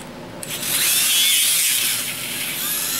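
A small wire wheel on a power tool spins up and scrubs an engine part, a bright close whirring grind that starts abruptly and holds steady to the end.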